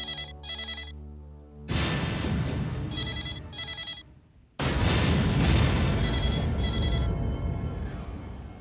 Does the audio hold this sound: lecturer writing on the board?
no